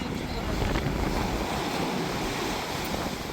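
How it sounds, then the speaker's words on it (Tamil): A strong, sudden cyclone wind blasts across a seashore village, a loud continuous roar buffeting the microphone, with surf-like rushing noise and no clear voices. "இன்னும் பாருங்கள் இந்த காற்று அடிச்சுக்கிட்டு தான் இருக்குது"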